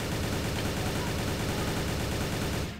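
Dense, continuous automatic gunfire from a shooting video game rattles loudly for nearly three seconds, then cuts off abruptly at the end.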